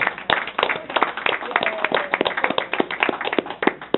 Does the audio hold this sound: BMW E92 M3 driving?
no